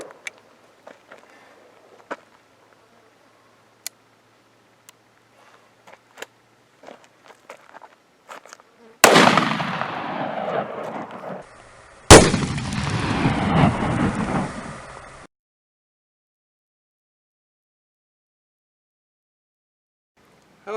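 A .500 S&W Magnum revolver fired at a pumpkin outdoors, two loud sharp blasts a few seconds apart with long ringing decay after quiet shuffling and small clicks, then silence.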